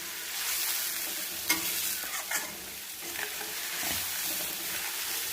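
Yogurt and spice mixture being sautéed in a pan for a fish curry, with a steady broadband sizzle and occasional scraping stirs throughout, no talking.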